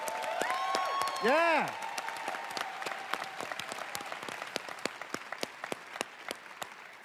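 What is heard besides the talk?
audience applause at conference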